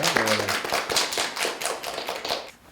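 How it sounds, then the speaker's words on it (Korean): At a cultural forum on North Korean performing arts, a modest audience claps, with fairly distinct, uneven claps close to the microphone that fade out at the end. "우리가 모두 더 노력해서 그렇게 좀 되는 날들을 한번 기원하는 의미에 박수 한번 칠까요?"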